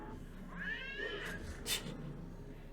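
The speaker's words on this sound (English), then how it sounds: "The death cat has like an actual cat cry, which is hilarious." A death cat creature in the Wizard101 video game gives a realistic cat-like cry, a rising, wavering meow followed by a brief bright burst against a steady game background.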